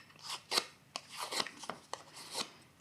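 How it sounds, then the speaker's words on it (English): A bone folder rubs back and forth across paper in scratchy, rasping strokes, uneven bursts close to the listener, moderately quiet, with no talking. "I'm going to just start kind of using my bone folder"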